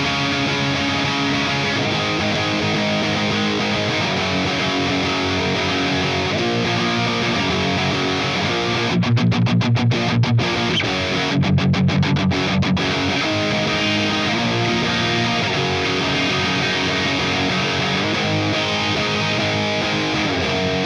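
Electric guitar played through a ToneX model of an 800 amp with an 808 overdrive pedal in front, into a Mesa oversized 4x12 cabinet, giving a steady distorted tone for about twenty seconds with rapid choppy muted bursts near the middle.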